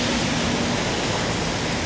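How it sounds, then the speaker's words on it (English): Heavy rain pours down on a Taipei street near the North Gate, a constant, loud, hissing roar with no breaks and no voices. "Pouring with rain almost"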